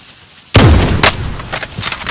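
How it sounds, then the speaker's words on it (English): Gunfire sounds in a battle royale video game, with a sharp, loud shot followed by a few more blasts and rumbling echoes. "who's shooting?"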